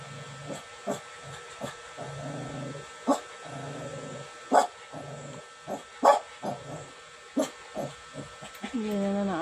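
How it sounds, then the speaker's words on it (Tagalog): A dog barks in short, irregular bursts mixed with high whines and yips, fairly close against a quiet background. "Yan ang aso namin."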